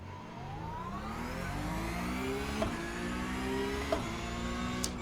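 A race car does a granny-style standing-start launch in iRacing, its engine climbing steadily through the gears with brief shift blips, a continuous close, even roar without talk.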